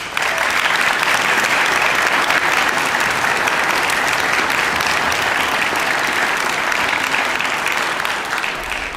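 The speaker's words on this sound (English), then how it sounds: "Let's give a round of applause for 2021 Citation Award recipient, Casey Ross." A full hall at Maryville College's 2021 Founder's Day applauds a Citation Award recipient; thick, even clapping runs loud and continuous, thinning slightly only at the very end.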